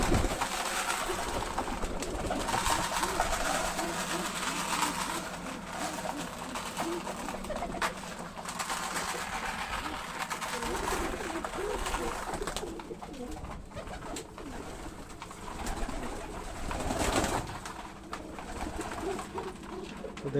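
Pigeons coo steadily at close range in a pigeon-farm loft while a brooding bird sits on its eggs, the soft throaty calls overlapping continuously with no pauses and no talking.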